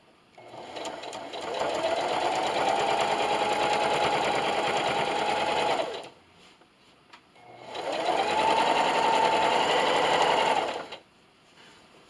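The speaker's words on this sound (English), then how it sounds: "Now when I'm sewing along here, I'm just making sure that everything is nice and flat, especially with the towel." A sewing machine stitches through a towel bathmat in two steady whirring bursts of about four and three seconds, close and loud, separated by a short pause.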